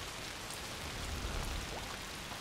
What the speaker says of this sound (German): Dieser Regen.